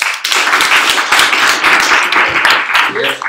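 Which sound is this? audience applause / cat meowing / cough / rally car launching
audience applause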